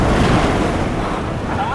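Ocean waves surging against rocks at the foot of a cliff, a loud continuous wash of surf mixed with heavy wind buffeting the microphone, with no talking.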